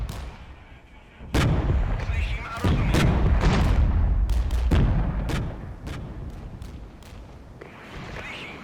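Artillery units in the Regiments video game fire a series of heavy booming shots, several sharp reports spread over a few seconds with rumbling tails under a continuous low roar, close and loud.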